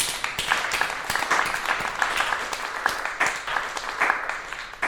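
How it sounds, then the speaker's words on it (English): Audience applause for a duo on stage at a talk event, a steady dense wash of many hands clapping throughout, close and fairly loud with no break. "Let's give the duo a big round of applause."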